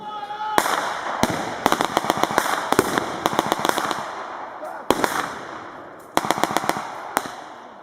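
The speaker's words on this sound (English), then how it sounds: "they'll continue to advance and lay down suppressing fire" Allied reenactors laying down suppressing gunfire at a WWII battle reenactment, with many sharp, loud shots in irregular clusters and rapid volleys over several seconds against steady outdoor background noise.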